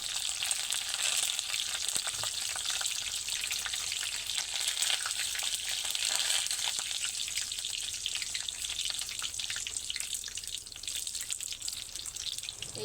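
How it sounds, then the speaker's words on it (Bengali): Curry leaves fry in oil with a continuous close sizzle, a steady bright hiss that holds evenly for the whole stretch without any voices over it. "আওয়াজটা যখন বন্ধ হবে তখন পাতাগুলো খুব ভালোভাবে ভাজা হয়ে যাবে।"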